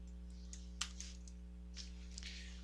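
Keys on a computer keyboard are tapped to type a spreadsheet formula, faint scattered clicks over a steady electrical hum, no voice.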